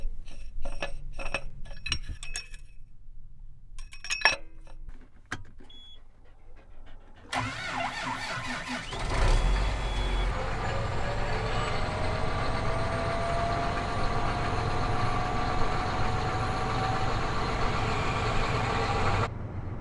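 A farm tractor engine, used for spring tillage with a disc implement, idles and then cranks to life partway through, running steadily and fairly near with a rising whine and broadband rumble after a quieter stretch of scattered clanks.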